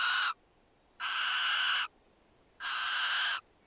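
An owl screeches three times as a story sound effect, each harsh scream lasting under a second and separated by brief silences, loud and close.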